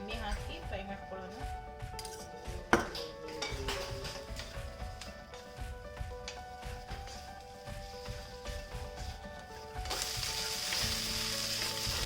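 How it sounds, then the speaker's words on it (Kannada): Chopped okra fries in a couple of tablespoons of oil in a pan, giving a steady close sizzle with occasional utensil clinks and stirring scrapes, and a person talks over it. "ಒಂದು 2 ಟೇಬಲ್ ಸ್ಪೂನ್ ಎಣ್ಣೆ ಹಾಕಿ ಫ್ರೈ ಮಾಡ್ಕೊಳ್ಳೋಣ."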